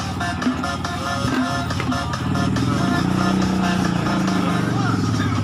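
A motorcycle pulls away at a drainage work site, its engine humming steadily and rising slightly as it departs, mixed with other machinery rumble and nearby voices talking.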